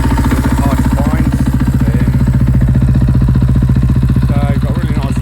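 KTM EXC 500 Six Days motorcycle with an Akrapovic exhaust idling close by, a loud, steady, rapid thumping single-cylinder beat that holds even throughout with no revving.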